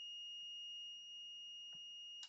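A digital multimeter set to continuity mode sounds a faint, steady electronic tone that holds throughout, with a soft tap near the end and no talk.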